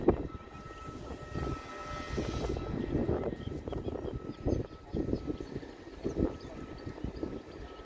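A freight train passes at Northampton with a long, continuous rumble and rolling clatter that rises and falls in waves, heard from a short distance and steady for several seconds.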